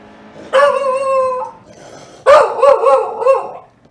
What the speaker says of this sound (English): I got my dog barking in the background.